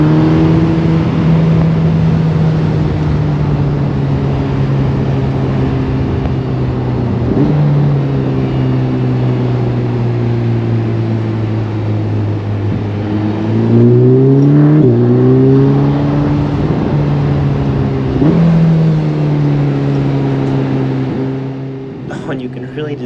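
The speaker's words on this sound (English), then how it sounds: "you can really just feel that transmission as you upshift. Oh man, it sounds so good, and you can just hear it in the engine tone" A 2022 Ferrari Portofino M engine heard from inside the cabin, droning loudly as it accelerates, with its pitch rising and then dropping at several upshifts.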